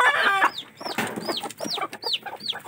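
Hens in a chicken pen fighting over their nests cluck and squawk in a quick, uneven run of sharp rising calls, close and fairly loud, with no talking.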